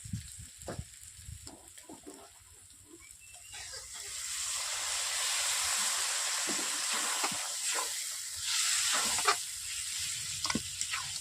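Pond snails sautéed in oil in a Bengali curry pan give a steady, close sizzle that swells midway, with scattered stirring scrapes and clicks throughout.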